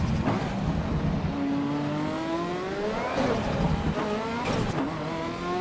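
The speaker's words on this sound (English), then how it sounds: "The sound of the engine's a lot of fun." Race car engine in the Assetto Corsa Evo racing game at the Glen, revving up through gears with rising whining tones that drop and climb again, steady and prominent with no talk.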